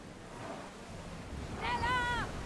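Ocean waves in the video game Assassin's Creed Odyssey, a steady broadband wash of surf and wind that swells louder near the end, with a brief tonal voice-like sound over it.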